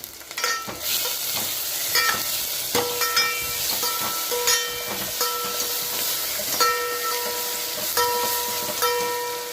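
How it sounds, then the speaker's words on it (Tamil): Onions sauté with salt in a pan for radish sambar: a steady sizzle runs throughout, broken by frequent stirring scrapes and squeaky, ringing spatula-on-metal tones, close and with no talking. "உப்பு சேர்த்து நம்ம வெங்காயம் வதக்குறப்ப சூப்பராக நம்ம வெங்காயம் வதங்கிடும்"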